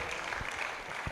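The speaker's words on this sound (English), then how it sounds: "Please, a round of applause for the Permanent Secretary one more time." Audience applause for a Permanent Secretary at a World Environment Day event in Nigeria, a steady wash of clapping from a crowd throughout the short moment, fairly distant and uniform.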